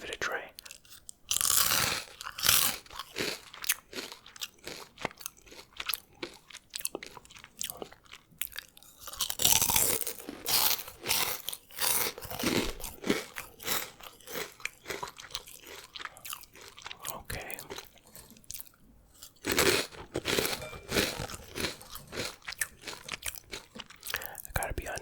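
Crunching and chewing of imported Cheetos, close and loud, with repeated crisp bites in bursts and steady mastication throughout, and a soft whispering voice faintly in places.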